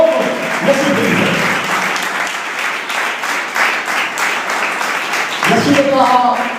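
Loud, continuous applause from a church congregation cheering for Jesus swells through most of the stretch, with a preacher's voice heard over the clapping at the beginning and close.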